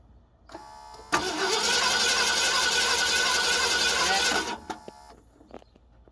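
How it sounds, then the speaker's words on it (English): A 1966 Ford Thunderbird V8 cranks over on its starter for about three seconds, a loud steady whirring churn with no catch, beginning with a sharp click and ending abruptly, close by. "can you crank it over for a little bit?"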